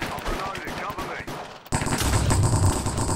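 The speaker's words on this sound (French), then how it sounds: "je tire à travers le mur" MP5 submachine gun fire in the Minecraft Cops and Crims shooter game: dense, loud automatic bursts that swell into a continuous roar in the second half, with a voice audible in the opening part.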